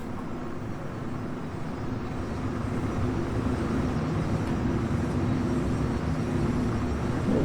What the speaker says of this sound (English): Use my thrusters.